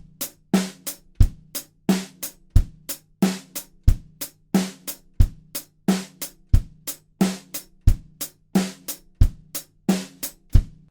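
A drum kit plays a steady groove: kick and snare keep the pulse while the hi-hat lands crisply on every upbeat, in a tight, loud, evenly spaced pattern with no talking.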